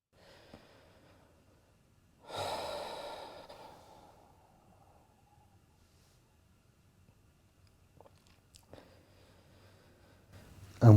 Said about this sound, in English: I'm waiting for the breathing pattern to change.